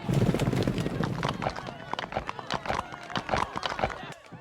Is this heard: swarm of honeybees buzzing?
no